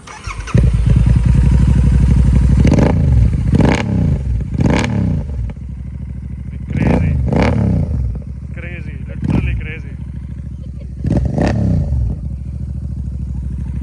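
A Royal Enfield Super Meteor 650 motorcycle engine starts and idles loudly nearby, with several sharp revs of the throttle rising and falling over the steady rumble.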